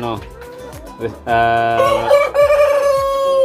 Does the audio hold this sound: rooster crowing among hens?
yes